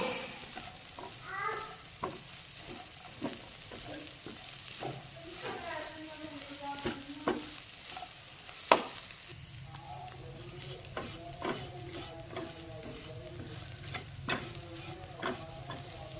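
Moong dal halwa is roasted in a pan with soft frying sizzle under repeated scraping and tapping of a spoon as it is stirred, one sharper knock midway, with faint murmuring voice in places.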